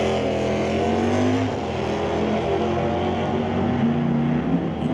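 Loud, steady engine roar from a 1970 Barracuda and a Chevelle at a drag race, a continuous dense drone with rising harmonic whine as the cars accelerate, filling the whole stretch.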